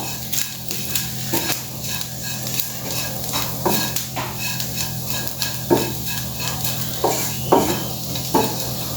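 A spoon stirs turmeric powder into a cooked mixture of onion, coconut, ginger and garlic for a Goan prawn curry, with the flame off. Soft scraping strokes recur steadily at close range over a faint low hum.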